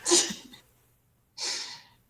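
A neighbor sneezes loudly, giving two sharp, breathy bursts separated by a short silence, each close and forceful.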